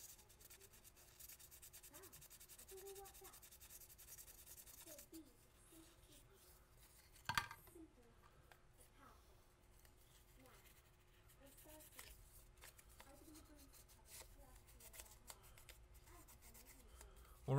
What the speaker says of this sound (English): sanding and checking, sanding and checking.